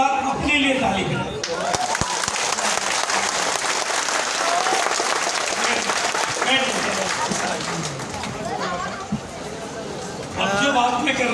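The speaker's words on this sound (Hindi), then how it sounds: "और एक बार अपने लिए ताली बजाओ।" An audience in an auditorium at a large beauty-company event in Guwahati claps in a loud, sustained wave of applause with crowd chatter mixed in, briefly dipping before swelling again as a voice speaks near the start and end.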